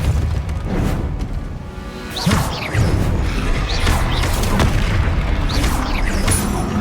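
Blasting-spell explosions in Hogwarts Legacy, several sharp booms and crashing impacts spaced every second or so over a busy combat background, loud and close.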